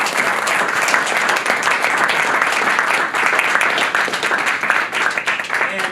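Audience applause after a class session, steady dense clapping from a full room held at an even level throughout, with scattered voices mixed in.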